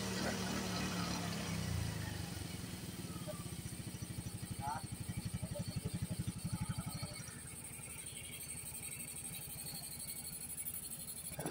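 A Yamaha Mio Gear 125 scooter, showing a check-engine fault after refusing to start, idles steadily with a fast, even putter. The engine sounds faint and close, with a person talking nearby.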